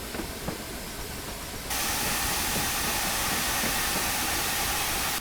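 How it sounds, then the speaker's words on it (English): A 2MT steam locomotive in Train Simulator on the Western Lines of Scotland gives a loud, steady roar of steam and hiss, jumping abruptly to a louder, denser wash of sound partway through. "Gosh, this engine's so loud."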